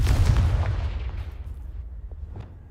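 A Confringo blasting spell in the Hogwarts Legacy video game detonates as a heavy, booming explosion with a deep low rumble that fades away over a couple of seconds, with no voices.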